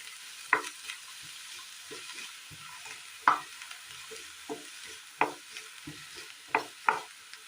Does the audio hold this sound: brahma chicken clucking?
no